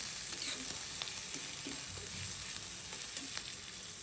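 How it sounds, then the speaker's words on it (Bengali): Onion and garlic fry in oil for a dal tempering, a faint, even sizzle with small crackles and a few soft stirring knocks, quiet and close. "এই তেলে দেওয়ার জন্য আমি পেঁয়াজ আর রসুন ভেজে নিচ্ছি এখানে"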